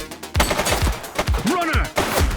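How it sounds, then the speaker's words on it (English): Gunfire in the police game The Precinct, a quick string of sharp shots mixed with shouting voices and a rising siren-like wail, close and busy. "She's shooting!"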